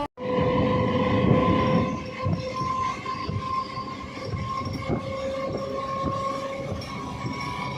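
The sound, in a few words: passenger train running between Bardhaman and Bandel Junction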